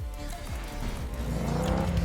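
Ford Mustang Hoonicorn engine in the Need for Speed video game idling and revving in short rising and falling bursts, loud and close, with no speech.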